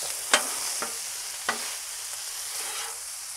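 Pepper steak and rice stirred on a Blackstone griddle, with a few sharp spatula scrapes against the flat-top over a soft, steady sizzle.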